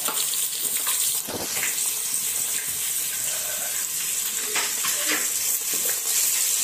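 Onions frying in a pot on the stove for jollof spaghetti, a steady close hiss and sizzle with occasional stirring clatter and scrapes running throughout, with no talk.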